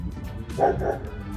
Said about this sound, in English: No, that's not our dog.